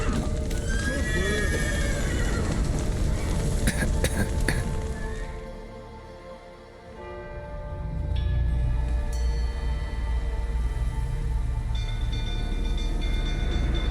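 Horses whinny loudly against a dense, rumbling soundscape in The Witcher, then the noise drops briefly before a steady mechanical drone resumes.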